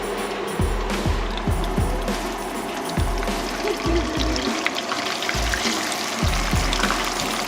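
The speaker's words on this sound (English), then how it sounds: "we've got some little pomfret fish frying in a little bit of oil" Small pomfret fish sizzle and crackle in a little hot oil, a steady bubbling hiss with occasional low thumps, close up.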